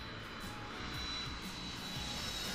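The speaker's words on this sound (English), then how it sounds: "Passenger airplane." A passenger airplane in flight gives a steady, faint, broad roar of engine noise that holds unchanged throughout, with no voices.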